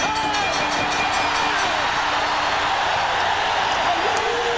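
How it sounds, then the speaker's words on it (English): A boxing crowd at a WBC light welterweight title fight between Julio Cesar Chavez and Roger Mayweather roars steadily, a dense wash of cheering and whoops that fills the arena without pause. "the crowd begins to erupt"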